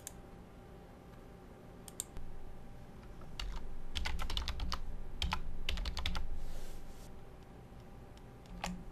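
Password keys tapped on a computer keyboard in quick irregular bursts of crisp clicks, close and clear over a low room hum, with no talk.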